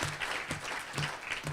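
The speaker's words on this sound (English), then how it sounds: "Let's give them a round of applause." An audience applauds at a chamber of commerce luncheon in Pasco, a short burst of steady, fairly soft clapping from a roomful of people.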